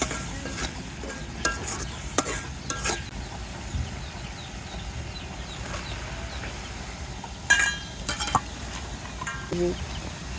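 Chickpeas frying and being stirred in a pan, with a steady low sizzle under intermittent scraping and clinking of the spatula, a few sharper knocks standing out.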